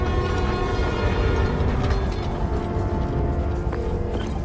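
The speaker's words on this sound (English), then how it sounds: "Trusty New York subway." A New York subway train rumbles past in Spider-Man: Miles Morales, a loud continuous rolling roar with rattling wheels and mechanical clatter that eases slightly toward the end.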